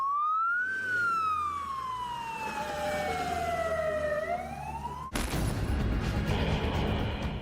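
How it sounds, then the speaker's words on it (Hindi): Emergency siren wailing in a Ukrainian city during a Russian missile attack, a loud sweeping tone that glides down slowly then rises, before cutting abruptly into harsh broadband noise. "जगह जगह इमरजेंसी सायरन बजने लगे"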